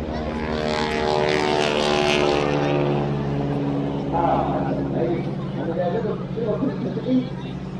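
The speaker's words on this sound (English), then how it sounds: "it is a big metal slug of a propeller" Propeller aircraft flying at the 2014 Blackpool airshow, a loud droning engine that holds steady and then fades slightly, with a crowd murmuring and people talking throughout.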